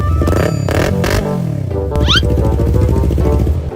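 A motorcycle with a custom-made exhaust revs hard close by, the loud barking engine blipping up and down in quick bursts before holding a rough, rumbling idle.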